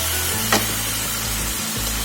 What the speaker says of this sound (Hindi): अब मैं थोड़ा पानी डालती हूँ।